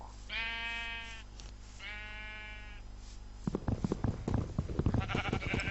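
Sheep in the Minecraft video game bleat twice in long wavering calls, followed by rapid clicking and tapping game sounds.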